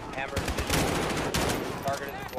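Gunfire in the video game Call of Duty: Modern Warfare, a dense barrage of rapid automatic shots and loud bursts, with a voice speaking over the shooting.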